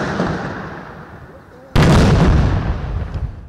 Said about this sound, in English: In honor of his 44-year reign in army, General Kibochi received a 17-gun salute.